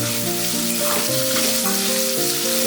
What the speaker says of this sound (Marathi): आपला टोमॅटो पण छान परतलेला आहे।